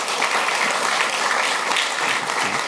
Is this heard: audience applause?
yes